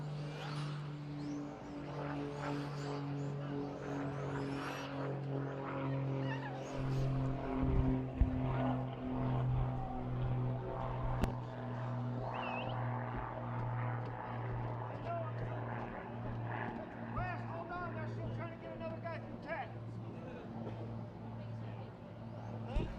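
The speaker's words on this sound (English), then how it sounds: "with the plane I couldn't hear anything" A propeller airplane flies over a winter RC car racing event, a steady low drone with a broad rumble lasting throughout and covering quiet background voices.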